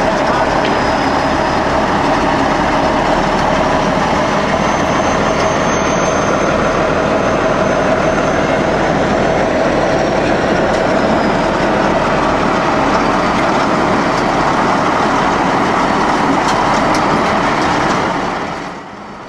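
Steam Locomotive 5000 rolls slowly along temporary track laid over a 100-year-old brick street, a continuous loud rumble and grinding that holds steady for nearly twenty seconds before fading.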